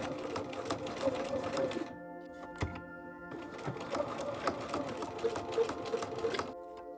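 A sewing machine bastes along the edge of fabric pleats in two close, steady runs of rapid stitching, separated by a short pause.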